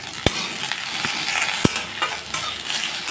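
Thankuni leaves, salt and black cumin fry in a pan with a steady sizzle, broken by a few sharp scraping stirs near the mic; no one speaks.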